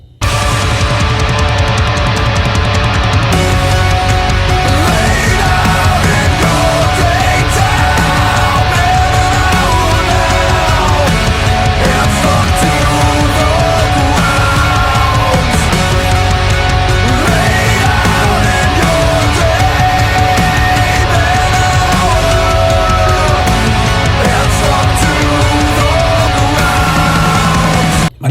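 Dense, loud heavy melodic metal: a wall of distorted guitars and drums with melodic lines weaving through, sustained continuously with no pauses.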